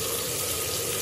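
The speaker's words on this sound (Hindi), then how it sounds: "मैं इसके साथ थोड़ा सा ये पानी और ऐड कर रही हूँ" Water poured into dal while cooking, a steady close-up gushing and splashing stream lasting about a second.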